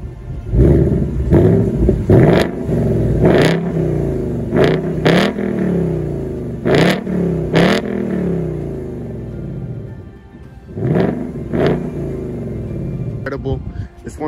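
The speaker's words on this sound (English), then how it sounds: "It's one of the best sounding V8 ever made." A 2020 Ford Mustang GT V8 revs through its dual exhaust pipes in a series of loud, rising bursts with rumbling pauses between them, close by and dominating, with a short quieter lull before the revving returns.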